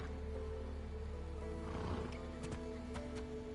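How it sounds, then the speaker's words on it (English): A fierce horse neighs in the video game Assassin's Creed Odyssey, a strained whinny rising in the middle over a faint ambient bed, followed by a few sharp clicks or hoof-like knocks near the end. "I heard the neigh of a fierce horse"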